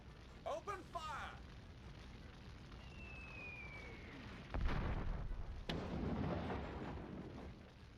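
Artillery fires in a Warhammer Dark Omen battle, with booming blasts and rumbling impacts swelling midway under a continuous wash of battle noise, while voices are heard early on.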